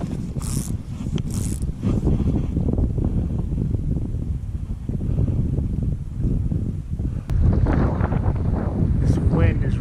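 Strong gusty wind buffets the microphone beside Ruby Lake during fly fishing for brook trout in the Eastern Sierra, steady rumbling with occasional knocks and rattles.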